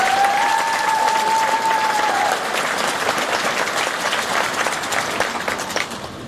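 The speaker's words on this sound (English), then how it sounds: "So give them a big round of applause" Sustained, dense applause from a graduation audience fills the hall, loud and steady throughout, with a brief whistle early on before the clapping slowly thins toward the end.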